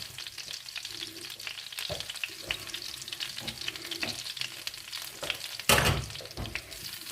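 Grated garlic sautéing lightly in oil in a pan, a soft continuous sizzle with occasional stirring clatters and a brief louder clank near the end.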